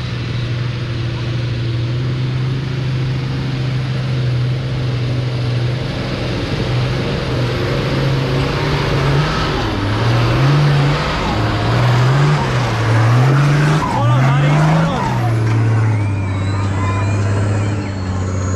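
A car climbing a hill under heavier throttle, its engine droning steadily and rising and dipping in pitch as it pulls up the slope, loud and close, with people talking over it at times.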